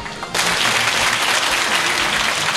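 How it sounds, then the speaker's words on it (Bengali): Loud, dense applause from a school program audience rewarding a correct quiz answer, starting abruptly and sustained close and steady without talk. "আমরা তার জন্য একটা জোরে করতালি আশা করছি"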